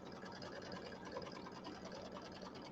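An embroidery machine stitches steadily around quilt batting on a quilt block, its fast, even needle rhythm close and continuous for the whole stretch.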